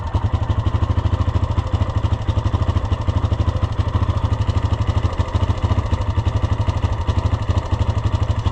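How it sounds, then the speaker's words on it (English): A side-by-side UTV engine idles steadily in neutral, a loud, close, even low chugging with a rapid regular pulse and light mechanical clatter, running alone without talk. "Let's let it sit a minute and idle."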